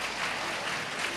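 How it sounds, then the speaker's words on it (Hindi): Soft, steady clapping from the audience at a Hindi religious discourse, a brief even wash of applause heard from a distance with no talk. "बहुएं, ताली तो बजा दो"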